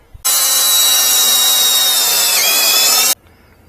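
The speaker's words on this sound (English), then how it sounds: "drill a hole here" A power drill whirs loudly and steadily for about three seconds while drilling a hole for a 12V lithium motorcycle battery, starting and stopping abruptly, with no talking.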